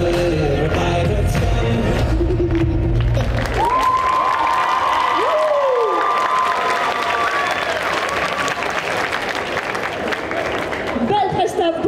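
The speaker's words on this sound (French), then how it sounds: "vous pouvez encore l'applaudir très fort" An audience at a cosplay parade during the Angers Geekfest 2024 gives loud, sustained applause with some cheering, starting under music and carrying on as an announcer speaks over it.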